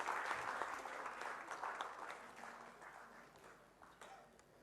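Audience applause at a daytime awards ceremony, a steady patter of many hands that slowly thins and fades, fairly distant and soft, with no voices over it.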